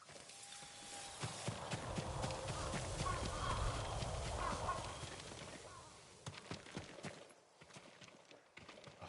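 Horse hooves clip-clop in the video game Ghost of Tsushima, faint, quick and irregular, with a rustling burst in the middle and scattered knocks toward the end.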